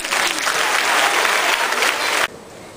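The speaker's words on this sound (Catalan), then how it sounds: "un fort aplaudiment per a ell" A theatre audience breaks into loud, sustained applause for a performer arriving on stage, a dense wash of clapping that holds steady and then cuts off abruptly near the end.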